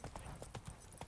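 Hooves of Roach, Geralt's horse in The Witcher 3: Blood and Wine, clip-clop in a quick, even trot of about eight close, crisp hoofbeats over a short moment.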